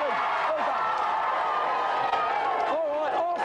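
A studio audience on the Gamesmaster game show cheers, whoops and claps steadily throughout, loud and close, with voices audible in the crowd noise.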